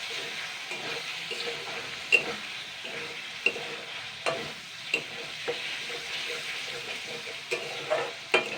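Eel fish curry with tomato ketchup stirred in a pan, a spoon scraping and knocking against the metal at irregular intervals over a soft low sizzle, fairly quiet, with no talking.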